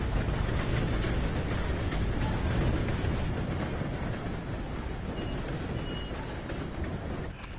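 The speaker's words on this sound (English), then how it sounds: "Gotta beat that train, Morgan!" A train rumbles past in a video game, a loud, dense, steady roar that fills the whole stretch and eases off slightly right at the end.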